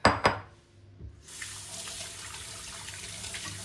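Tap water runs steadily from about 1.3 seconds onward while parts of a home olive-oil pressing setup are rinsed, after a couple of brief knocks at the start.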